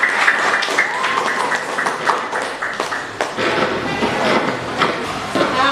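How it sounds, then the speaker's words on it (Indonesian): Students in a classroom clap together for a classmate, a steady wash of dense applause lasting several seconds at moderate loudness with some talk mixed in. "Kasih tepuk tangan dong temannya."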